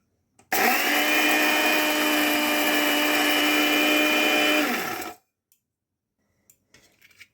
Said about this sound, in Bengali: এগুলো মিক্সিতে ভরে নিচ্ছি, পাউডার বানিয়ে নেব।